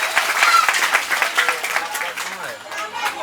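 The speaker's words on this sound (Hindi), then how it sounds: "हम सबों के लिए एक बार जोरदार तालियां बजाकर स्वागत करें" A crowd at a Ram Katha religious gathering breaks into loud, sustained applause that keeps going steadily for the whole stretch, with voices mixed into the clapping.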